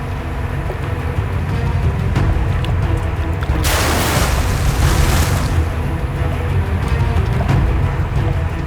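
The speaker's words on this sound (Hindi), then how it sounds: "ये लोग गोलियां क्यों चला रहे हैं?" A loud, noisy burst of gunfire lasting under two seconds erupts over a steady outdoor rumble in a jungle scene from a TV crime drama, with no talk during it.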